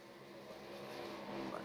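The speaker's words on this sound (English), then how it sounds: "We can always listen to these cars at full song" Xfinity race cars scream past at full speed on a track, a sustained engine drone that builds in loudness toward the end as a car draws nearer.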